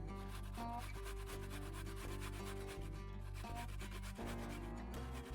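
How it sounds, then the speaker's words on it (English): Peeled fruit is grated for a Korean kalbi beef rib marinade, a steady rhythmic scraping against the grater repeated in even strokes, close and fairly quiet, with music beneath. "Got it peeled, now let's grate it."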